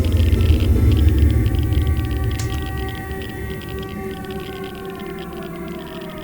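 A wailing siren like the emission alarm from the S.T.A.L.K.E.R. video game, with sustained rising and falling tones over a low rumbling drone, loud at first and gradually fading.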